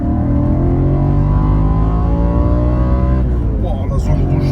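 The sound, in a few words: Audi RS4 engine revving toward red line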